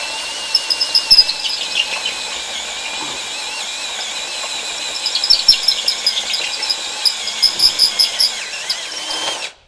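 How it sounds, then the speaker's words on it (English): A power drill runs steadily in low range, driving an 11/16 step bit, its motor whining close by with a few brief surges in load near the end. "You can actually hear the drill going slower."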